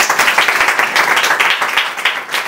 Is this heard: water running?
no